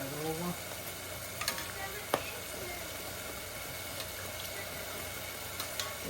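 Guyanese fried bake dough cooking in hot oil, a steady close sizzle with a few sharp clicks and scrapes as the dough is handled and turned.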